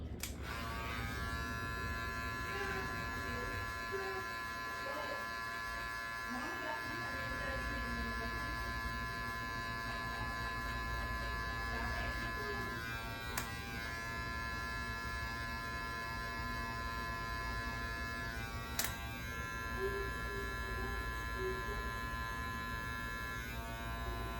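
Electric hair clippers with a number 1 guard cutting hair, a continuous close buzzing hum with steady tone, slight shifts as the blade moves through hair, and a couple of brief clicks.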